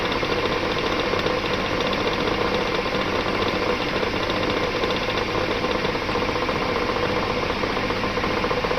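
A metal lathe turns a clutch part for a car builder, taking a 2.5 mm cut, giving a steady close mechanical drone with an even hum and no talking.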